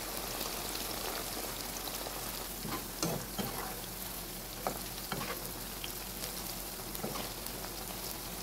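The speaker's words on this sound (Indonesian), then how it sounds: "Kemudian lanjut ini goreng sama brokoli dan bunga." Broccoli and flowers frying in hot oil give a continuous, even sizzle with small crackles and pops, close by and with no voices.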